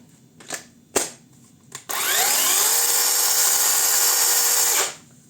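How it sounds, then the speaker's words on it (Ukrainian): A cordless saw runs on a fully charged 8 Ah Procraft battery built from 2170 cells. A few sharp clicks come first, then the motor whines up to speed and runs loud and steady for about three seconds before cutting off. "Пилка работає."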